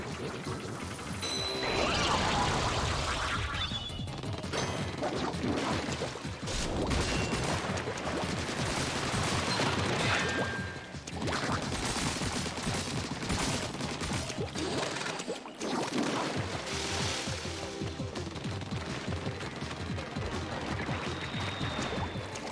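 Splatoon ink shots are fired at the player during an online match: dense, continuous bursts of splatting and impacts layered over game music and effects, loud and busy from start to finish.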